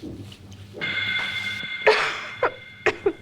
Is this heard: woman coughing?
yes